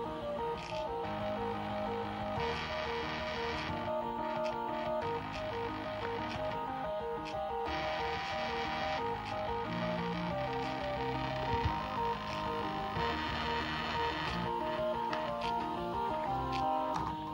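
Stepper motors driven as a homemade music player whine out a continuous melody of stepped, buzzy tones, changing pitch in a regular rhythm with a mechanical hum underneath, loud and close throughout.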